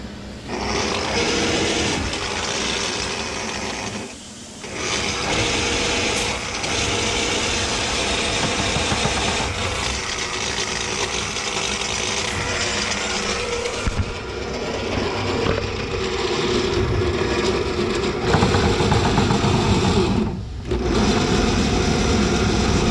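A drain snake runs back and forth inside a kitchen drain line to clear it, a steady motorized whir and rattle that carries on without a break for about twenty seconds, close by and loud, dipping briefly a couple of times.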